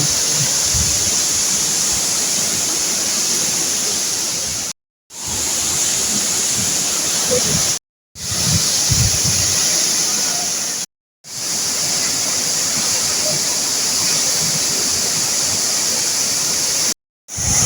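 Bar Changay waterfall in Sikkim roars continuously at close range, a dense steady rush of falling water and spray that fills the scene, broken only by a few brief silent cuts.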